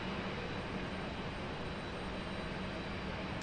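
American Airlines flight 1517, a jet airliner headed to Miami near Raleigh-Durham International Airport, produces a steady, broad roar of jet engine noise that holds constant throughout, with no voices.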